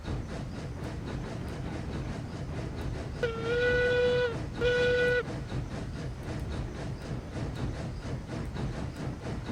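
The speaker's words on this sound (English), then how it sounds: "Not the most spectacular whistle on this train." A locomotive whistle in the RailRoads Online game sounds two sustained, harmonic blasts, the second shorter, over a steady rumble of rolling train wheels and engine noise.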